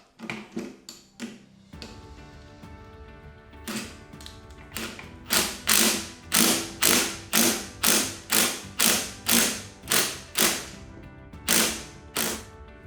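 Ratchet driving a bolt on a powered Jeep top removal assembly, a few quick clicks and then a long run of rapid, evenly spaced ratcheting strokes, close and crisp, with no talking.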